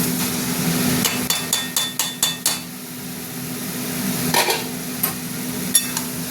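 Banana flower being sautéed with spices in a pan for a prawn mocha ghonto: a steady low sizzle with a quick run of sharp spatula knocks against the pan, then a few scattered scrapes and taps.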